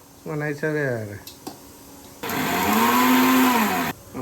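Electric mixer grinder in a home kitchen whirs loudly for about two seconds after a stretch of nearby talking.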